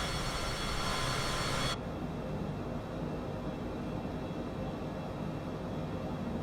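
Cessna Citation CJ4 business jet cruising in Microsoft Flight Simulator, a steady, dense engine and air roar that holds constant throughout, its upper hiss dropping away early on while the low drone continues alone.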